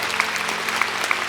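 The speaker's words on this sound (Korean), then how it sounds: "우리가 열렬하게 박수로 여러분을 맞이하고 싶습니다." A congregation in a church applauds warmly to welcome invited guests, a dense and steady clapping from a large crowd filling the room.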